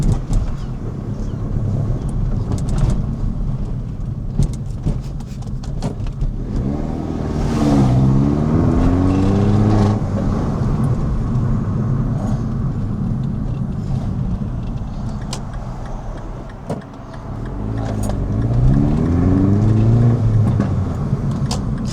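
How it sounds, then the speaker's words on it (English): A Mini Cooper S with a modified, throatier exhaust rumbles while driving, swelling twice into revving accelerations over steady road and wind noise from an open window. "I don't know if you can hear the exhaust. Oh, it just sounds so much better."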